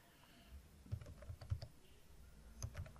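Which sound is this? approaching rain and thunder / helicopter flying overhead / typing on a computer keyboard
typing on a computer keyboard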